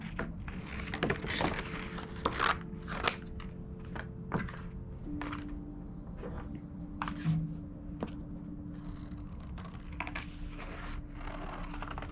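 Quiet crisp snips and rustles of scissors cutting through card, irregular close-up clicks and scrapes with faint background hum.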